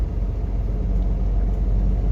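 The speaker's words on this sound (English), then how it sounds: "I started the truck." A truck engine idles just after starting, a steady, close, low rumble that holds evenly throughout with no voices.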